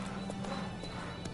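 In The Witcher 3, the horse Roach sounds a short run of clopping hooves and a whinny in a brief, close burst.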